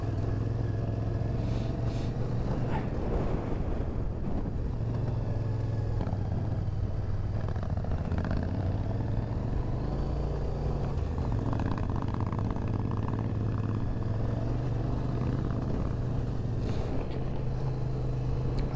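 An offroad vehicle climbs an Alpine mountain road in the Western Alps near the Assietta ridge road and Monte Jafferau, its engine a steady, loud drone heard from inside, with no talking.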